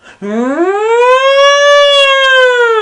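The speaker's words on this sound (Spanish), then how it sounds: "el ruido de una sirena" A loud siren sound effect starts with an abrupt low onset, sweeps upward over about half a second, then holds a steady, sustained wail on its own to the end.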